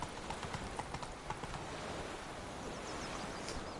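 Hooves of the horse Roach clip-clopping in the video game The Witcher 3, a steady walking rhythm over a broad outdoor ambience with rustling, moderately quiet and without speech.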